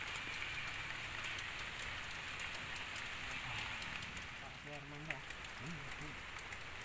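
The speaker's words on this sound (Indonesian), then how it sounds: "berteduh sejenak karena hujan" Steady rain pours down on a forest in a rural village during the rainy season, a dense even hiss throughout, with a brief bird-like chirp near the end.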